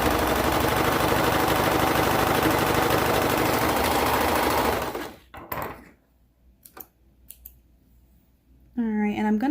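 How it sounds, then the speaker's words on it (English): A serger sewing machine stitches the sleeve seam of a peplum top, running as a loud, continuous rapid whirring buzz for about five seconds before stopping, followed by a few small clicks. "serging it together."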